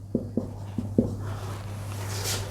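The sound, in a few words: writing on paper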